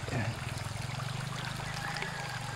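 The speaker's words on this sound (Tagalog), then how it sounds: "Ilog pa uli." A small river flows over rocks at a campsite in Tanay, Rizal, a soft, continuous trickling and burbling that stays close and fairly quiet throughout.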